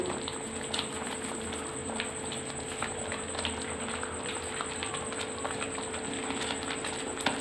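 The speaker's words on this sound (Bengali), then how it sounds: "এই দেখো ফুটে উঠেছে দুধটা" Milk comes to a boil in a pot on a gas stove while making palm-fruit kheer, giving a steady, close, continuous bubbling simmer with no voices.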